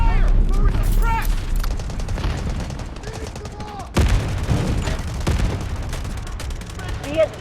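Heavy gunfire in the video game Delta Force Mobile: rapid, loud automatic bursts and booming shots, with a voice shouting over the battle.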